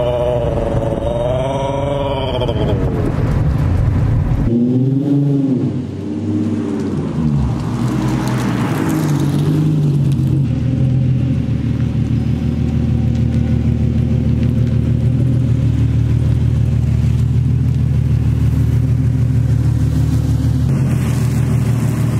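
An Infiniti G35 being diagnosed drives along with a steady, close engine drone and low rumble, rising through revs early on before settling into an even cruising hum.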